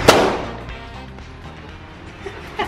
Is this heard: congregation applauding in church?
no